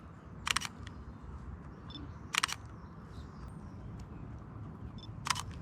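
An SLR camera shutter fires at a fifteenth of a second in a dark room, giving three crisp separate double-clicks a couple of seconds apart over quiet background hiss.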